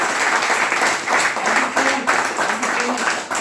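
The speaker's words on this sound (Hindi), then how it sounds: "एक जोरदार ताली चाहूंगा" Audience applause at a motivational talk at a team bootcamp in Lonavala, a loud crowd clapping in steady waves, with someone speaking over it partway through.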